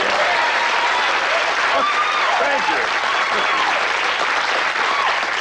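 Loud audience applause at an interview with Orson Welles, heard as a thick, continuous roar of clapping with a voice briefly speaking over it.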